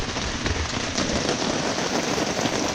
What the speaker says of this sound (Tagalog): Bigla kasi bumuhos yung ulan.